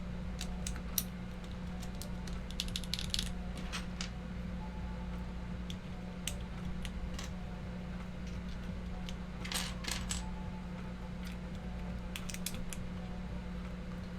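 Plastic keyboard keycaps clatter and tick in light, irregular clicks against a steady low hum, close and fairly quiet.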